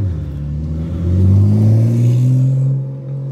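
A Porsche 935 race car engine revs with a deep, loud rumble that climbs in pitch and then holds steady for a few seconds, close by and alone.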